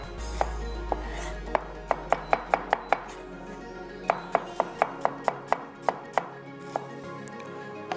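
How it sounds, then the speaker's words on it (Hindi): Onions being sliced with a knife on a cutting board, giving a steady run of about twenty crisp, evenly spaced chops, loud and close, with no talk. "प्याज तकरीबन एक बड़े साइज़ की और एक छोटे साइज़ की, तकरीबन हाफ कप के बराबर हमने प्याज को जो है स्लाइस कर लेना"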